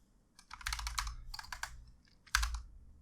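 Close-up typing on a computer keyboard: a few quick bursts of clicky keystrokes with short pauses between them, in a quiet room with no talking.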